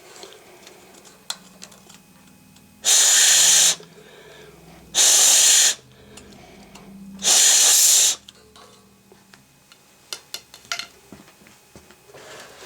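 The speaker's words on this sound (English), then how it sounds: "I'm just going to blow down in there and see if a bunch of crap comes out" Air is blown forcefully into a Mr. Heater Buddy portable heater in three loud, hissing bursts, each lasting about a second, separated by short pauses, followed by a few faint clicks and taps.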